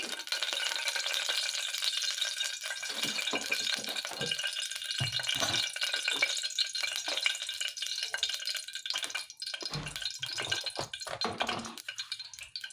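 Cooking oil poured into a heating tawa pan for gravy, a close steady hiss and crackle with scattered rattling clinks of utensil against metal, continuous throughout and free of talk.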